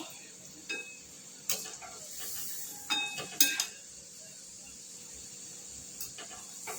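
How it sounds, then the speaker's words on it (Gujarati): Spiced peanut bhujiya fry in a pot of hot oil with a soft, steady hiss. A few sharp clinks and pops break through the sizzle. "તેલમાં એડ કરી દીધા છે આપણે સીંગ ભજીયા"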